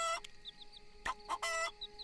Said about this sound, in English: Pet the chicken.